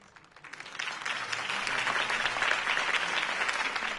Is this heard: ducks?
no